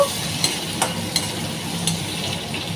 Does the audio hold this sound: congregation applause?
no